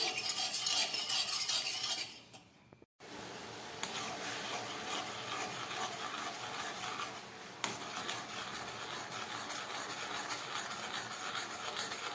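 A spoon stirs sugar and water in a pot to make syrup, giving a steady close scraping and rubbing that runs continuously apart from one short pause, with no talk.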